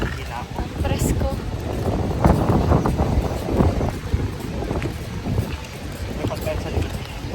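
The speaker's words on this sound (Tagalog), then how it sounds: "Wow, mahangin. Mahangin, guys. Ang sarap tong hangin niya." Steady wind buffets the microphone in low rumbling gusts, with a voice talking over it.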